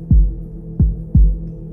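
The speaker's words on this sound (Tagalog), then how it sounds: "Biglang bumilis ang tibok ng puso ko." Heartbeat sound effect, fast and tense, with three deep low thumps about half a second apart. Each pulse is loud and close over a faint steady hum, and no one speaks.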